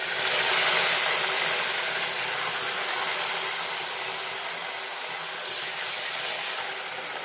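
Curry leaves dropped into hot sesame oil with already-popped mustard seeds, frying for a pickle; a steady, loud, close hiss of sizzling oil holds throughout with a brief swell near the end.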